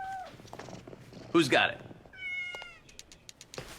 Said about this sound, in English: Cats are terrible at math, but they sure do multiply.